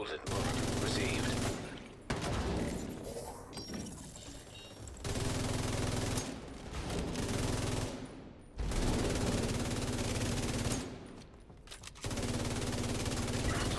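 Sustained bursts of automatic gunfire in a video game, dense rattling volleys separated by short pauses, loud and close.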